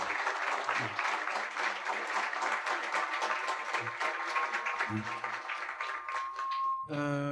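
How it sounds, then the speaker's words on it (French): An audience at a panel discussion on artificial intelligence and drones applauds the panelists with dense, sustained clapping for nearly seven seconds. The applause cuts off abruptly at the end. "merci à nos panélistes que je vous invite à applaudir"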